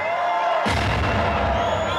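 A large crowd at a funk show erupts in a loud, sudden roar of shouting and cheering, sustained and dense after a brief moment of quieter ambience.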